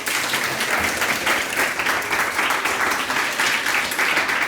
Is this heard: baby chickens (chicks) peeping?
no